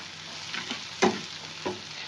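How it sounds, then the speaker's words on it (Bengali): Spices for egg curry being sautéed in a pan, a soft continuous sizzle broken by three short stirring scrapes, the middle one loudest. "দিয়ে একটু ভালোভাবে কষিয়ে নেবো"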